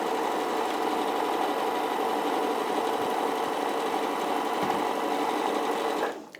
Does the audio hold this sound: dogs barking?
no